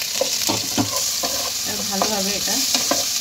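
Chopped ginger, garlic and green chili fry in hot oil in a pan, a steady close sizzle broken by the scrape of a stirring spoon, with a brief soft voice.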